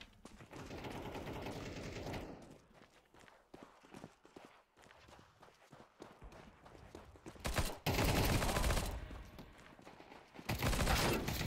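Bursts of SMG fire rattle loudly in Counter-Strike 2, a long sustained spray at the start and two more heavy bursts later, with footstep-like taps and clatter in the quieter gaps.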